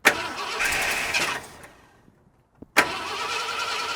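A 1972 Ford F250 with a 390 V8 that has been parked since 2007 cranks over in two bursts. The starter churns steadily, falls silent for about a second, then cranks again, loud and close.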